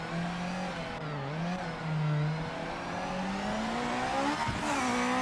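A blue Nissan 400Z racing car in the video game Project Motor Racing 2.0 holds a loud, steady engine drone that dips and climbs in pitch, close and alone.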